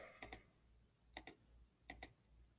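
Keys on a computer keyboard clack quietly in three evenly spaced pairs of sharp clicks, each pair close together, against near silence.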